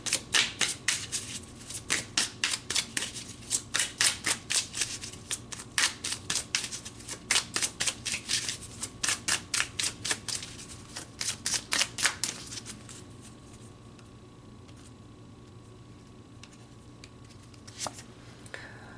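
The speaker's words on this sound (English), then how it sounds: "so let's pull some soul purpose cards" Soul purpose oracle cards being shuffled by hand in rapid, rhythmic riffling bursts, close and crisp, continuing for about twelve seconds before fading into quiet room tone with a stray tap.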